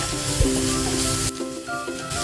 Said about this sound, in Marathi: सेलरी घालायची आहे ती पण चांगली फ्राय करून घ्यायची आहे